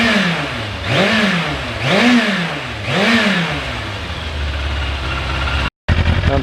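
Yamaha FZR 1000 motorcycle fitted with an R6 muffler idling on fast choke, a steady low rumble that swells gently in three slow waves before settling, close and continuous, briefly cut out near the end.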